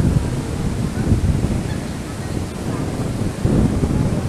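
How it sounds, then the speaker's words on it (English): Big waves surge and break on a wide beach at Boracay Island in the Philippines, with strong wind buffeting the microphone; a steady, loud roar of surf and gusts fills the whole stretch, swelling again near the end. "The big waves wash the sand from there going down there."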